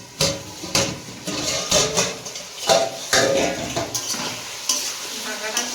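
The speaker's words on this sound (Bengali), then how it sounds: "ঢাকাটা খুলে কষিয়ে নিই।" Mutton being stirred in a pot on a home stove, a spoon scraping and clattering against the metal in repeated strokes over a steady sizzle, close and fairly loud with no talk.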